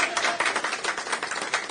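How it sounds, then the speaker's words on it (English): Polite clapping from a conference audience at an education technology event in Ghana, a steady patter of many hands, moderately near and continuous with no voices. "Can we do more than polite applause,"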